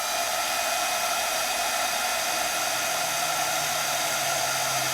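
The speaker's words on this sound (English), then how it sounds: "let's bring over our heat tool and start with this one" A craft heat tool blows steadily on acrylic ink, a constant loud whooshing roar that fills the whole stretch without pause or talk.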